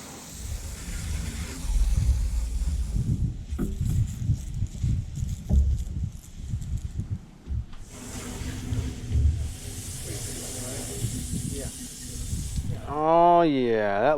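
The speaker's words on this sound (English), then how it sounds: "This is some Zep mold stain and mildew stain remover, and just a pump, HDX multi-use pump sprayer." HDX multi-use pump sprayer misting Zep mold and mildew stain remover during a 22-foot boat restoration, bursts of airy hissing spray between pauses, with handling noise and a voice nearby.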